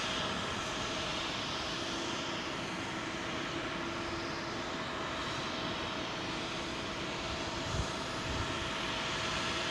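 Boeing 767 at London Heathrow on runway 27L: a steady, moderately distant jet roar that holds a broad, even rush throughout with a faint tonal whine, no voices.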